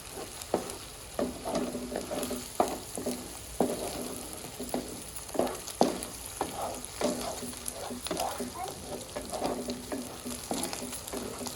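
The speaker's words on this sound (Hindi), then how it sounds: "देखो कोई कोई प्याज अभी जल रहा है" Red onions frying in a pan, some of them burning at the edges, give a close, continuous crackling sizzle with irregular sharp pops and stirring scrapes throughout.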